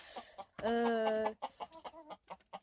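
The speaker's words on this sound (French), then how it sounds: "Donc là, c'est des poules naines." Bantam hens on a small farm cluck and squawk close by, with one long loud call followed by a run of short, choppy clucks.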